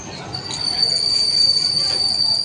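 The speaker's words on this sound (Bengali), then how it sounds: "অবশেষে ট্রেনটা প্ল্যাটফর্মে প্রবেশ করলো, আর আমরা এই ট্রেনেই উঠে পড়বো" A train pulls into a railway platform on the route toward Canning, its wheels giving a thin sustained squeal over a low rumbling roll at moderate distance.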